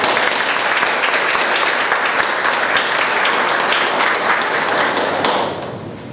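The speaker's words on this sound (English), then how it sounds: "Please give a big round of applause to all the evaluators" A roomful of people at a Toastmasters club meeting gives a loud, dense round of applause that carries on steadily and then tapers off in the final moments.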